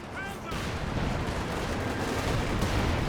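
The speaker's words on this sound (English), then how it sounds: "Could see an AT rifle grenade. Yes, we will see an AT rifle grenade." Anti-tank rifle grenade fire from the Company of Heroes 2 video game, a dense stretch of loud battlefield booms and gunfire layered together for about three seconds, with a brief whistling streak near the start.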